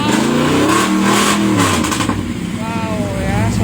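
A 1960s classic car engine revs loudly close by, its pitch sweeping up and down in rising and falling surges, while people talk over it.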